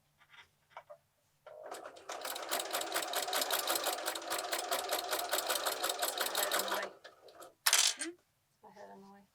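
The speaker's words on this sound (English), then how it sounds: "we're just stitching along the edge" Close and loud, a sewing machine stitches along the edge of a quilted placemat in one sustained run of fast, even needle strokes lasting about five seconds, followed by a sharp clatter and quiet handling noises.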